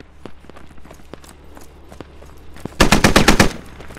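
A loud, fast rifle burst of about half a dozen shots from a US Army squad in an Iraqi city, Squad alpha 9.7 gameplay. It follows quieter footsteps and light clicks.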